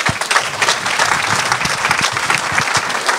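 A church congregation applauding in acclaim of Jesus Christ, loud dense clapping from many hands, sustained and even throughout, close and filling the room.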